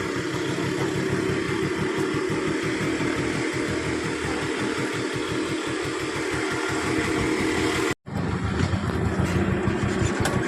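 An auto rickshaw engine idles with a steady low chugging rumble throughout, loud and close, broken by a brief dropout near the end before the running resumes.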